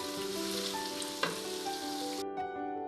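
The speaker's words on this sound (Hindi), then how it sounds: "अब हमने लहसुन के साथ इतनी भुनाई करनी है कि जो लहसुन की खुशबू है वो गोश्त में अच्छी तरह शामिल हो जाए" Garlic and mutton fry in a pot for a Peshawari mutton namkeen, a steady close sizzle with brief stirring clatter and no talk.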